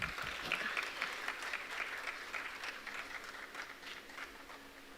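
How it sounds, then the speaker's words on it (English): Steady audience applause at a student welcome event, fairly faint and distant, fading gradually over several seconds with no talk over it. "Please give them a huge round of applause."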